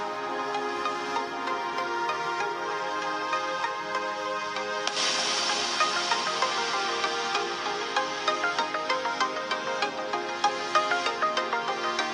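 A melodic ringtone plays loudly from the speakers of a Realme GT Neo 2 smartphone, a steady tune that turns brighter and more rhythmic partway through, heard alone without talk.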